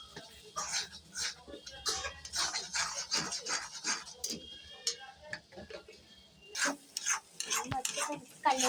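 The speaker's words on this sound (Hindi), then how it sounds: "हम अच्छे से मिक्स कर लेते हैं।" Pav bhaji masala with Kashmiri chili stirred in a pan, giving repeated scraping and clinking strokes in an uneven rhythm that carry on throughout, with a voice talking intermittently over them.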